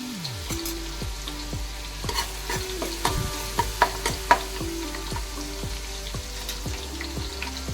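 Bay leaf and garlic frying in oil in a pot for mutton masala, stirred with repeated scraping strokes and clinks over a continuous close sizzle, no voices.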